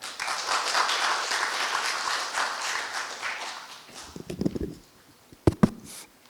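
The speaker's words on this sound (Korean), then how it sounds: "첫 번째 발표 맡으신 조재곤 교수님께 뜨거운 박수 부탁드립니다" An audience at an academic conference on East Asian history applauds the first presenter, a professor; steady clapping for about four seconds, then a few scattered claps and a couple of sharp knocks as it dies away.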